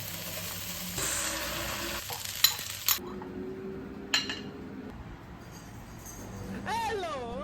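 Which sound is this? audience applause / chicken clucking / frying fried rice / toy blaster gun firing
frying fried rice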